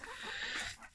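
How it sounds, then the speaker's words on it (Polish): A young rooster in a backyard poultry flock gives a single short, faint squawking call at a distance, with no talking. "Tu kogucik Feniksa, jego chyba skórko wyniosę stąd."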